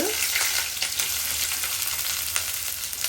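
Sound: sliced onions frying until golden brown

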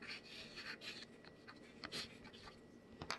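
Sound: writing with chalk on Dollar Tree chalkboard paper

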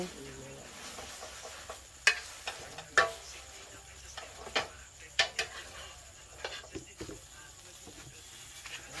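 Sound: frying scrambled eggs in a pan

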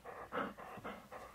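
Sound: dog panting

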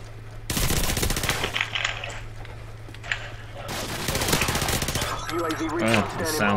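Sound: mini Uzi gunfire in Call of Duty 4 video game

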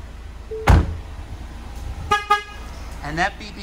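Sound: car keyless warning beeping

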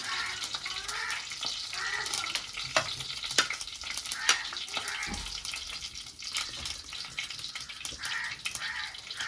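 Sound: mustard seeds popping and sizzling in a clay pot

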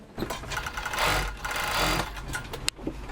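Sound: sewing machine sewing warm balaclavas

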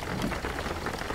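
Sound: rain in the video game Jalopy

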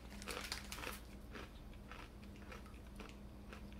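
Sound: crunchy cookie being chewed

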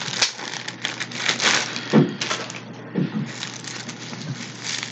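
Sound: plastic packaging of Fossil wallet being handled

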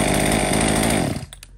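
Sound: chainsaw engine running, used Japanese chainsaw

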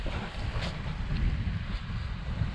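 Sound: wind blowing on the microphone outdoors

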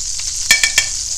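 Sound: hot oil frying and popping in a pan

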